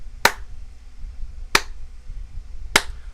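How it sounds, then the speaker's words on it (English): Three slow, evenly spaced claps ring out alone about a second and a quarter apart, a sarcastic applause in a Doki Doki Literature Club visual novel mod. "The conversation is interrupted by slow clapping."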